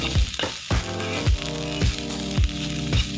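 Cabbage and capsicum stir-frying in a hot pan, a steady close sizzle broken by regular scraping strokes of a spatula roughly every half second, with no voices.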